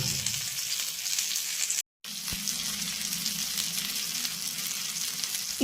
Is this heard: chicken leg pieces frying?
yes